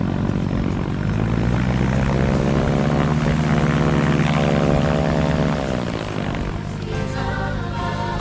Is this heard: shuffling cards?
no